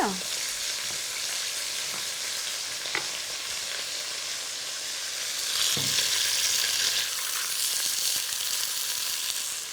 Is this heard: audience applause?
no